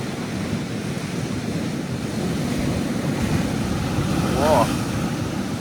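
Large ocean waves surge and break along a shore in a steady, loud wash of surf, with gusts of wind buffeting the microphone and the water swelling louder near the end.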